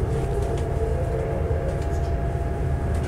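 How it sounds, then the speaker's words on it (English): Inside a high-speed train running at about 188 km/h, a loud steady rumble and rolling roar fill the carriage continuously, with no voices. "This train was real rocking at that time."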